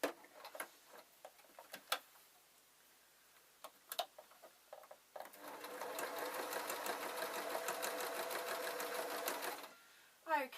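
A sewing machine stitching around a fabric doll, first in short scattered bursts and clicks, then in one loud, steady run of rapid stitching lasting several seconds before it stops.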